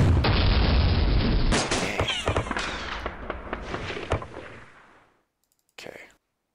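Artillery shelling in a World War II wargame campaign: a loud continuous barrage of booms and crackling bursts for several seconds, fading out, then a brief final blast.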